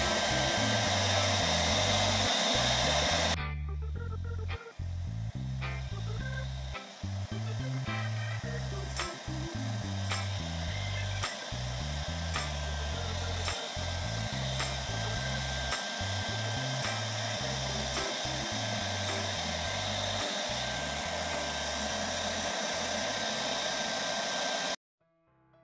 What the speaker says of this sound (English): so I got the hairdryer out